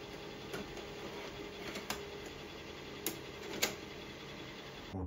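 An HP laser printer whirs and ticks mechanically while starting up after being switched on, with a steady hum and a few sharp clicks scattered through it, close by and fairly quiet.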